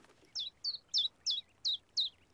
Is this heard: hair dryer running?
no